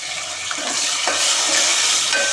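Drumstick pieces fry in hot oil for a garlic-tempered pappu charu, a steady sizzle with a few soft stirring scrapes of a spoon in the pan, close and continuous with no talk.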